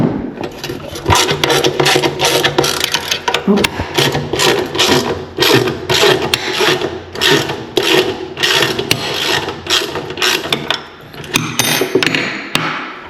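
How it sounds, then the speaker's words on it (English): A wrench works a nut loose on the front grooved roller of a Revolution reel mower, giving loud, close, rapid metallic ratcheting clicks in steady bursts that run nearly nonstop, with a few sharper knocks near the end. "Gotten this one loose enough to take this nut off."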